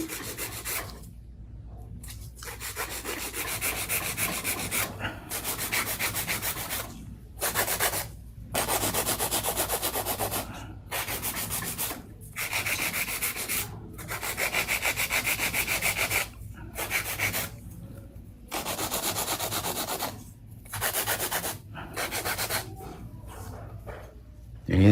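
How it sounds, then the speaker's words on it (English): Hand filing of coffin-shaped fingernails with a nail file during a manicure: repeated close rasping strokes in bursts separated by brief pauses, steady and fairly loud, with no talking. "I'm gonna do a little bit of hand filing before I do my cuticle work and top coat"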